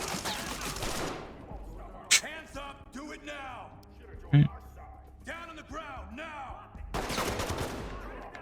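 Gunfire in the tactical shooter Ready or Not, a couple of sharp shots heard amid game sounds and a person talking throughout.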